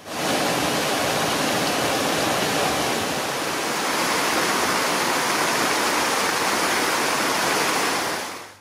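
A river pours over a weir into a mill race, a loud, steady broadband rush of falling water that continues unbroken throughout, close and dense with no voices.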